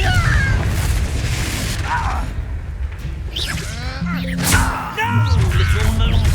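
Spell blasts from Hogwarts Legacy gameplay on PC: loud magical booms and whooshing crashes with chiming sparkle tones, layered over continuous game ambience.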